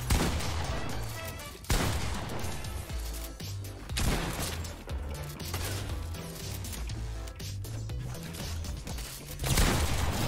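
Dense gunfire from a Fortnite match rolls on for about ten seconds, loud bursts and rapid volleys overlapping with game music and crashes in the background.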